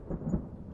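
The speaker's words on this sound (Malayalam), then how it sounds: "ദൂരെ മഴയുടെ കാഹളം കേൾക്കാം." Distant thunder rumbles low and soft beneath the steady hiss of rain, with one brief swell in the middle and no voices.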